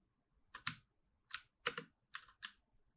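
Keys pressed on a computer keyboard while moving a character in an Unreal Engine 5 game, heard as five or six crisp clacks in small clusters with short gaps, close and clear with no talking.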